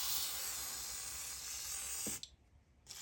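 Lubricant sprayed from an aerosol can onto machine joints: a continuous close, loud hiss for about two seconds that cuts off abruptly, followed by a brief second short burst of spray.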